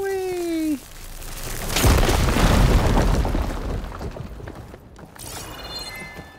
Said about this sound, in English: Cool people don't look at explosions.